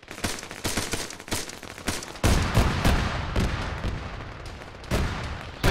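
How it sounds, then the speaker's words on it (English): Rapid bursts of heavy autocannon fire in a military shooter game, loud sharp thuds in quick succession with booming echoes, in a game-like battle scene. "Please don't fire auto cannons at the end of the round."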